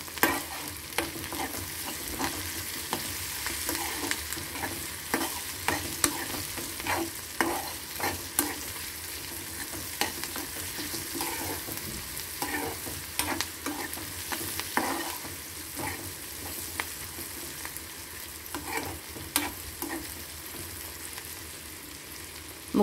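Turmeric being stirred into onions frying in a pan for a bottle gourd and moong dal dish: a steady sizzle runs throughout, broken by repeated scraping strokes of the spoon against the pan, close and moderately loud, with no talking.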